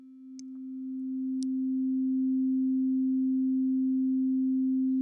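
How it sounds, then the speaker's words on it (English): A pure synthesizer sine wave holds one steady note with no overtones. It fades in over the first two seconds, then stays even and hollow, broken only by two faint clicks near the start. "let's listen to the sound of the sine wave at this particular"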